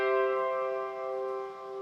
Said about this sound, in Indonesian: Tapi ini akor C mayor pembalikan kedua.